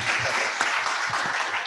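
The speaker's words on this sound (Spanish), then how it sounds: "Recibamos, por favor, con un caluroso aplauso al señor Giancarlo Ratto." Conference audience clapping to welcome a guest speaker, a steady dense wash of applause from a room full of hands, close and even throughout.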